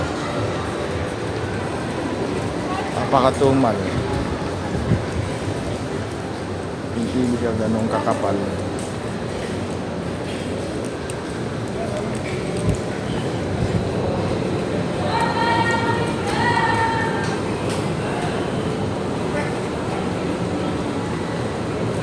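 An MRT train runs with a continuous rumble and rattle of rail cars, and a few squeals and clanks come through partway, while a person talks over the noise throughout.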